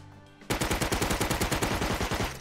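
Automated sentry turrets in the video game Rust fire a loud, rapid burst of about twenty evenly spaced shots after a brief quiet lead-in.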